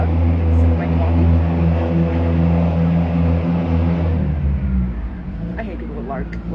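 A loud car passes nearby with a heavy, low engine rumble that holds steady and then fades away, and a voice can be heard over it.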